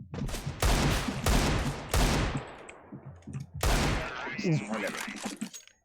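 Desert Eagle pistol shots in a Counter-Strike match, with several loud, sharp reports echoing in quick succession and a faint voice mixed in.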